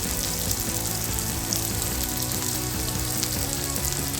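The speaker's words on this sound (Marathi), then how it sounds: "लाल कलर असं ब्राउनिश कलर येईपर्यंत आपल्याला चांगली तळून घ्यायचे आहे." Food frying in oil in a pan until browned, for a drumstick curry, a constant close crackling sizzle with faint rhythmic bubbling underneath and no talking.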